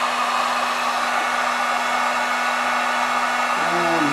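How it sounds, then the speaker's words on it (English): A heat gun blows steadily on heat shrink tubing over a wire on a 2005 Dodge Ram 1500 4.7 liter, a loud constant airy roar with a low hum, close and uninterrupted, with a slight pitch shift near the end. "And use our little handy dandy heat gun."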